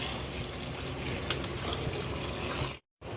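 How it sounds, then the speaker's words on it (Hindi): Water pours into a fish curry masala in a pan, a steady trickling splash that runs continuously before a brief cut. "पानी डाल दे रहे हैं ज़रूरत के अनुसार"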